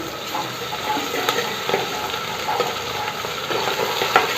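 Turmeric and ginger-garlic paste fry in a pan for masala pappu while a spoon stirs, giving a steady close sizzle broken by scraping and clicking strokes.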